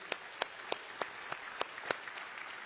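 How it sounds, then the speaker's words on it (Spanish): Sparse, evenly spaced claps ring out at a church service, fairly faint and a little distant, like a small group clapping in rhythm. "dale un fuerte aplauso al Señor"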